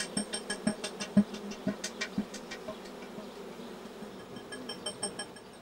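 Honeybees buzz around the hive, with a low steady drone and repeated short, pulsing bursts as individual bees move close by and then drift off.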